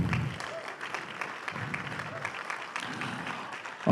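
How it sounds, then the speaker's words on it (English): Audience applause for conference panelists at an inland port symposium, a steady wash of clapping from a seated crowd, moderately loud throughout with a few louder swells, no voices speaking. "One more round of applause for them,"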